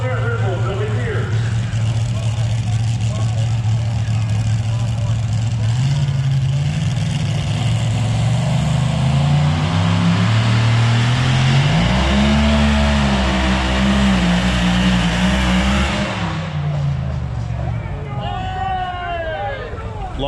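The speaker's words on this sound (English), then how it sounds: "See, the tractors are already moving." Pulling tractors at a race event revving their heavy engines, a loud sustained low drone that rises and dips in pitch, with crowd chatter and voices mixed in underneath.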